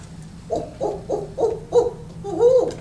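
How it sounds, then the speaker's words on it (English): A series of low, rhythmic barred owl hoots, six muffled calls in a steady cadence ending with a longer drawn-out hoot, heard fairly close and alone. "when a turkey hears a barred owl hoot"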